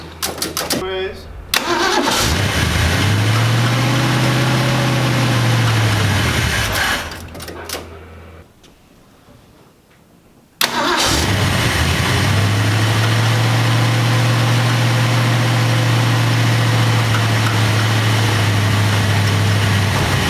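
1965 Ford Mustang with a new carburetor cranking and firing up, revving loudly, stalling into near silence, then restarting and settling into a steady, loud run, with a voice speaking over it.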